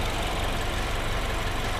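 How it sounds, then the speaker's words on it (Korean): A BMW 320i M Sport (F30 3 Series) engine idling with the hood open, a steady, even mechanical hum with a low rumble, continuous and close with no talking. "엔진 소리도 일정하네요"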